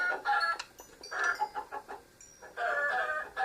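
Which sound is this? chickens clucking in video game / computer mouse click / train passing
chickens clucking in video game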